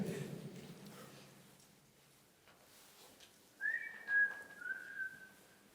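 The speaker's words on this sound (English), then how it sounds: "You seem happy that you're just walking through the corridors whistling." A short whistled tune sounds faintly in a quiet corridor, a few clear held notes after a brief low murmur at the start.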